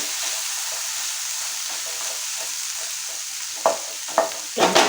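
Chopped tomato going into spice masala frying for a kundru (ivy gourd) curry, with a continuous loud sizzle and a few stirring scrapes near the end.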